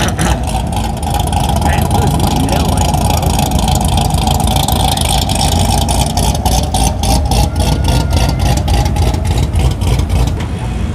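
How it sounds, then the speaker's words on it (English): Cars pulling in at a Sunday car meet at The Rock at La Cantera, with engines rumbling and idling loudly up close and a rapid rhythmic exhaust pulse building near the end, with people talking over it. "We got some nice cars pulling in."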